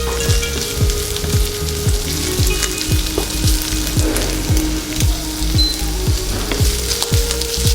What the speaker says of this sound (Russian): Все это вместе обжариваем, чтобы слегка у говядины была корочка.